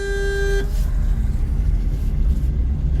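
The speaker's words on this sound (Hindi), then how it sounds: "दूसरे इसको हॉर्न मार जोर से" A car horn gives one sustained honk, then cuts off, leaving the steady rumble of road traffic running underneath.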